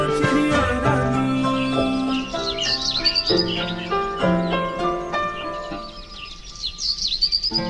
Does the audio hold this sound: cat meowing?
no